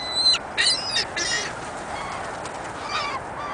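Seagulls and ducks call at a snowy bird-feeding spot, with a few brief honking and squawking cries early on, then fainter scattered calls over steady outdoor hiss.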